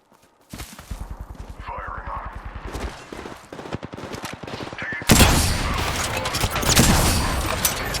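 Video game gunfire as players shoot each other: rapid automatic bursts build into a dense, loud, sustained fusillade, with voices talking underneath.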